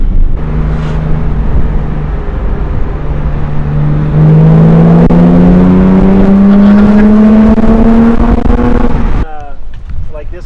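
A Porsche 997.2 GT3 sports car driving in Salt Lake City, Utah, heard from inside as the engine note climbs steadily under acceleration to a loud, rising wail before dropping off abruptly.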